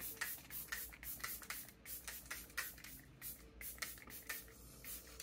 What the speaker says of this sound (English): So you want to make sure you shake it, get it all going. Just gonna spray it out just in case.